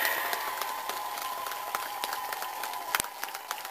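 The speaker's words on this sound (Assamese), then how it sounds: "চাপৰি" Crowd at a political rally for a BTC leader applauding, a continuous broad wash of many hands with occasional sharper claps, steady and fairly loud throughout.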